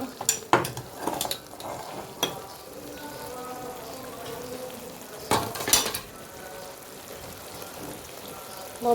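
Mustard paste and drumsticks frying in a pan, a steady soft sizzle broken by spatula scrapes and clanks of utensil on metal, close by and fairly quiet.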